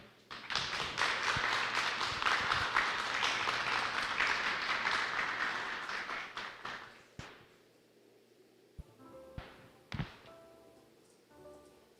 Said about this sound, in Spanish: Démosle un fuerte aplauso a Dios